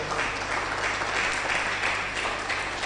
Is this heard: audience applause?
yes